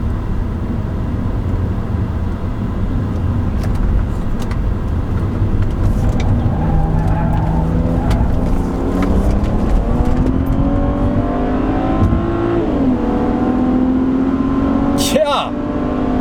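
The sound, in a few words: BMW 335i E90 N54 engine revving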